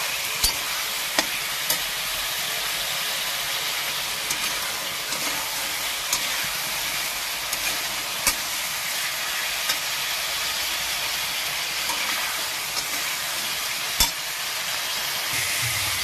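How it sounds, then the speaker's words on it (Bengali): Potatoes and data stalks sizzle steadily in a hot pan during stir-frying, with a continuous loud hiss and occasional light scraping clicks from the spatula. "আমার আলু আর ডাঁটাটা কষানো হয়ে গেছে।"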